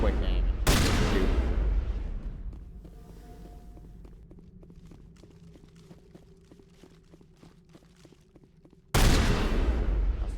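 Gunshots in Mass Effect 1 burst loudly at the opening and again near the end, with quieter mechanical ticking and ambience in between.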